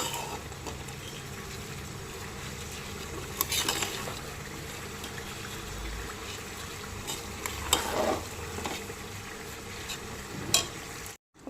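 Soaked rice stirred into ghee and spices in a pot for mutton keema biryani, a soft sizzle under scraping and clinking spoon strokes, quiet and close, briefly louder around the stirs, no voices.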